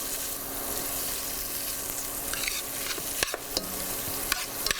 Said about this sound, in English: you want to let that bacon kind of render off